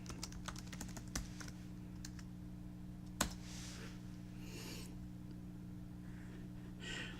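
Quiet, close taps on a computer keyboard as a password is entered, a quick run of keystrokes followed by a sharper key press, over a faint steady hum.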